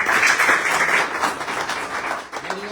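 An audience claps for a birthday at a Bhim Army gathering, a lively burst of applause that swells and then tapers unevenly, with no voices over it.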